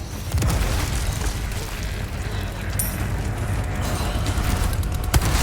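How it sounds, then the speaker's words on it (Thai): Grenade-style explosion in the video game Resident Evil 4, a heavy booming burst with rumbling low end that rolls on, followed by a sharp crack near the end amid continuous game noise. "โอเคระเบิดได้ละ"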